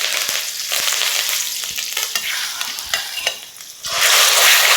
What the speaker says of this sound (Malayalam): അപ്പോൾ നമ്മുടെ ചിക്കൻ പീസസ് എല്ലാം നമുക്ക് ഇതുപോലെ ഒന്ന് വറുത്തെടുക്കാം